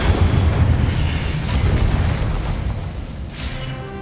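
Incendio fire spell cast in Hogwarts Legacy, a loud, sustained roaring whoosh with a booming low rumble that holds steady for several seconds and slowly fades.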